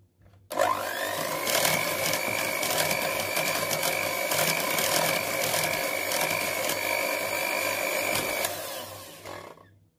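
A mixer whirs at low speed through a homemade vanilla ice cream base, a steady motorised hum with a faint rattle that runs evenly for about eight seconds before winding down.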